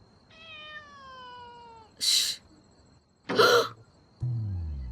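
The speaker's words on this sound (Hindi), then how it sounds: "मैंने अंदर बिल्ली की आवाज सुनी।" A cat meows in a drawn-out, wavering cry, followed by two short, sharp bursts like hiccups or coughs, then a low rumbling noise.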